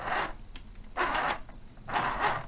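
A mini sewing machine stitching hand warmer fabric, three separate short whirring bursts of the needle, close and clear with quiet pauses between them.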